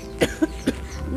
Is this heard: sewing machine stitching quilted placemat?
no